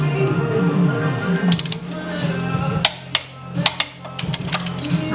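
Torque wrench tightening the ball joint bolt on a Subaru Impreza/WRX/STI, heard as a series of sharp metallic ratchet clicks and taps in irregular bursts near the end. Someone speaks over the early part.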